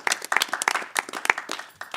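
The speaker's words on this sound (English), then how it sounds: "What are you clapping for?" Scattered audience clapping at a photography awards judging session, a loose round of claps with uneven rhythm and some quiet chatter underneath, moderately close.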